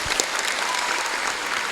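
Applause from a crowd at a university student orientation event: a short, dense wash of continuous clapping at an even level, with faint crowd noise.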